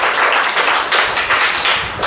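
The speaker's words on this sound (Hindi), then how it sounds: "एक बार अंश बाबू के लिए जोरदार ताली बजाइए।" A classroom of students claps for a classmate, a brisk, dense burst of applause from many hands that carries on steadily for a couple of seconds.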